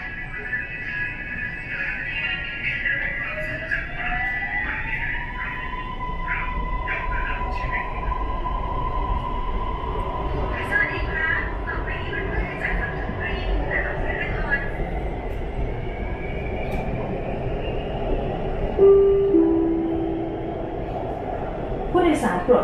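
A Bangkok MRT Blue Line subway train pulls away with a rising electric motor whine and rumbling wheels, while recorded Thai and English announcements play over the carriage.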